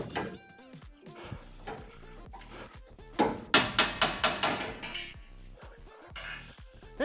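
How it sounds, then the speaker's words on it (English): A favorite hammer pounds on the sill of an MGB under repair, a quick run of about six sharp metallic blows midway through, with softer clanks and knocks around them. "Now I should be able to go with my favorite hammer."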